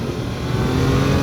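Triumph Daytona 660 motorcycle engine accelerating in third gear, a loud, steady, close rising engine drone with no talk.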